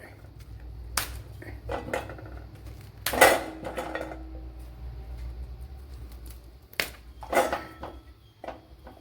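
Metal spoon scraping and clinking in a cooking pan while cauliflower is stirred, several distinct sharp knocks spaced irregularly over a low steady background hum, close and fairly quiet, with no talking.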